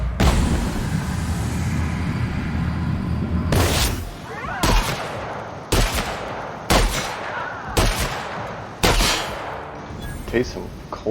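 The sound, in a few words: rifle gunfire in a video game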